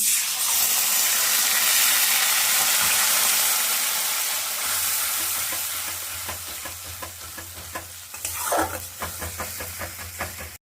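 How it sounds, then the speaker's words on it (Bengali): Ground onion paste sizzling and frying in a pan for a Bengali cauliflower and rohu fish curry, with a loud steady hiss that softens as stirring scrapes and taps come through near the end. "পেঁয়াজটা আমার ভাজা হয়ে গেছে"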